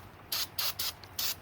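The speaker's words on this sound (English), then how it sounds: "And it's just brake parts cleaner." Four short hissing bursts of brake parts cleaner hit the rear brake parts of a 2006 Ford F250 in quick succession, close and fairly loud, with no one talking.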